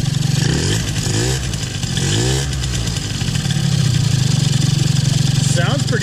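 A Yamaha BWS Zuma 70cc scooter with an upgraded cylinder runs with a loud, buzzy two-stroke drone, rising and falling in short blips, close by, with a voice talking over it.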